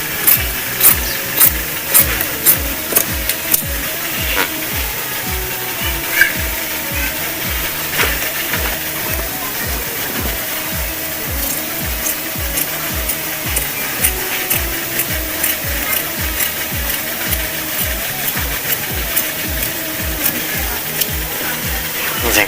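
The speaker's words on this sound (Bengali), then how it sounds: "এইভাবে দাগে দাগে কাটবেন।" Batik fabric being cut along marked lines for palazzo pants, with scissors giving a rapid, regular series of crisp snipping clicks, loud and close, continuing without pause.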